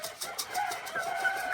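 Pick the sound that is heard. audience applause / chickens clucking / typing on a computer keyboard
chickens clucking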